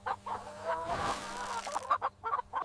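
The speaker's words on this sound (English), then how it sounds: "The chickens will come and peck themselves, and you can see how they react." Laying hens cluck in a countryside chicken yard as feed is poured into a trough, several short overlapping clucks and calls at close range, with no talking.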